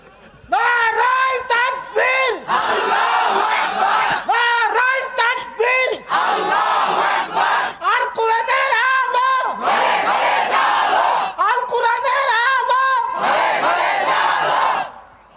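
Large crowd at a Bengali Islamic waaz gathering in Sonatala, Bogura, shouting takbir in loud, repeated collective bursts, several rising chants with brief pauses between, close and powerful throughout.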